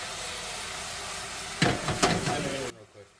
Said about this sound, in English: Return the crispy beef to the pan. dipping it in the sauce until every slice is beautifully coated.